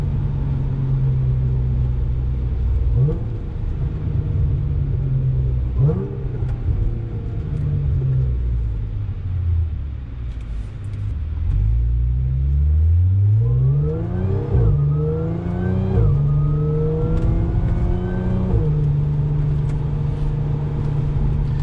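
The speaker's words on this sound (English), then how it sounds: "Now the supercharger is probably one of the loudest things on the car." A supercharged car engine revs repeatedly, its exhaust roaring and whine climbing with each rise in speed, then settling to a low rumbling drone between bursts.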